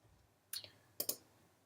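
Two crisp mouse clicks on a software button, the second a quick double, close and quiet against a near-silent background.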